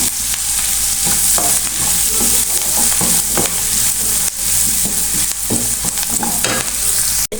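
Cauliflower and chopped soft tomato stirred in a hot frying pan for restaurant-style noodles, a loud continuous sizzle with rhythmic spatula scrapes and knocks up close, ending in a brief sharp clack.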